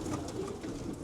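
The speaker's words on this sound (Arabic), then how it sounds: "نشوف الحمام" Homing pigeons in a German breeder's loft coo softly in a brief, low murmur, close and unaccompanied by talk.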